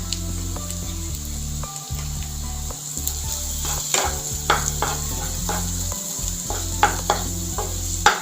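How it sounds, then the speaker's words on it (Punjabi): Finely chopped garlic and green chillies fry in a pan for besan bhurji, a loud crackling sizzle with a steady hum beneath and repeated scraping strokes of a spoon. "ਲਸਣ ਨੂੰ ਆਪਾਂ 1-2 ਸਕਿੰਟ ਲਈ ਭੁੰਨ ਲਾਂਗੇ"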